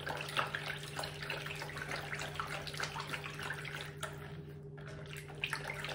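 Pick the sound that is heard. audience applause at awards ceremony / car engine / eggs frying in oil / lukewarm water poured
lukewarm water poured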